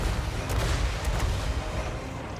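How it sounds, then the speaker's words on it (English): Cannons fire in a Total War: Warhammer 3 battle as a dense barrage of booms and blasts, loud and continuous with no talking. "We're going to have our cannons start."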